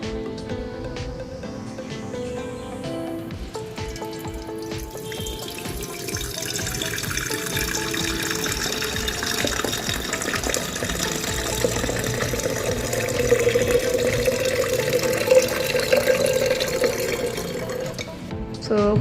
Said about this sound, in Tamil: இப்போ வாங்க தண்ணி ஊற்றலாம்.